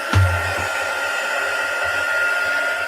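A hair dryer blasts air to dry freshly painted wildflowers, a loud, steady whoosh and whine that switches on at once and holds unchanged throughout.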